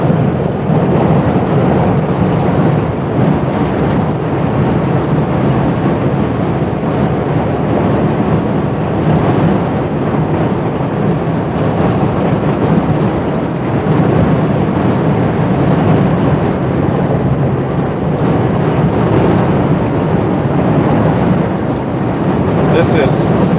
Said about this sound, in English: So windy that the wind is kind of holding me back too.